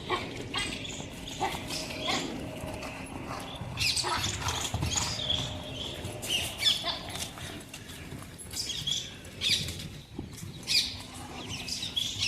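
A nine-year-old Thoroughbred mare, 65 inches tall, with hooves clip-clopping as she is worked in a circle, mixed with scattered animal noises and background activity outdoors.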